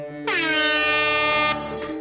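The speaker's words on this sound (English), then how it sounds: "Let's do an air horn." A single loud air horn blast used as a celebratory sound effect, bright and brassy, holding for about a second and a quarter before cutting off.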